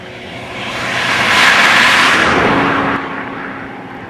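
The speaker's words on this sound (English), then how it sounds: "This is the same effect as the change in note of a passing car." A single car passes, its engine and tyre noise swelling to a peak and then dropping in pitch as it moves away, alone and fairly loud.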